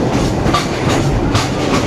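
A Kolkata to Dhaka passenger train rolls along with a loud, continuous rumble and rhythmic clatter of wheels over the rails, heard close from inside the carriage.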